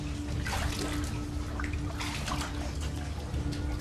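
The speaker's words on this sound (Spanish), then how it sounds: "atravesando un río subterráneo" Underground river water flowing through a cave, a steady, dense rush and gurgle of moving water with faint splashes, continuous and fairly close with no speech.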